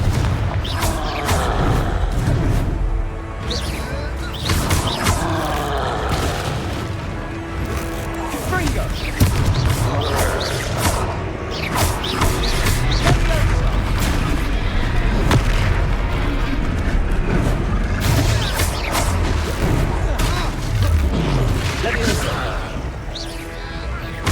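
Booming Confringo blasting-spell explosions go off repeatedly in the Hogwarts Legacy video game, loud and close, mixed with combat impacts, background music and character voices shouting.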